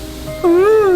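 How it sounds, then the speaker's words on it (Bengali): A single clear cat meow rises and falls after a brief quiet lead-in, loud and close. "এটা কিসের আওয়াজ? Cat cat cat"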